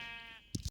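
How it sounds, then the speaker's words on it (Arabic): A spotted Minecraft sheep lets out a wavering, nasal bleat, followed by a couple of short dull thumps, brief and close. "هو ده خروف والله"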